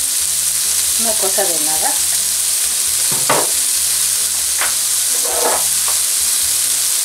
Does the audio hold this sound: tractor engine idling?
no